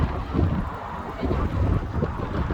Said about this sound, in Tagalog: Lakas ng hangin, malamig.